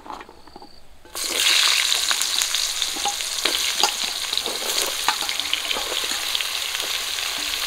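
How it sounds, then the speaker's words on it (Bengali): Washed ridge gourd and potato pieces drop into oil left from frying fish: after a second of near quiet, a loud, close sizzle bursts up and continues steadily to the end. "মাছ ভাজা তেলে আমি ধুয়ে রাখা ঝিঙে আর আলু দিয়ে দেবো।"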